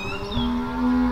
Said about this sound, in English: Do you hear the cow?